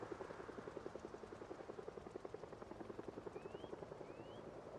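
A helicopter in a zombie survival video game flies overhead with a steady rapid rotor chop, faint and distant-sounding, and no talk over it.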